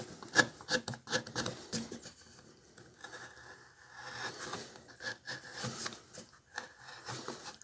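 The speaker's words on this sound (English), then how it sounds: "The rest we can do with sandpaper." Sandpaper rubbing over a carved wooden face, close scratchy strokes in an uneven rhythm, rising and falling in loudness with short pauses between passes.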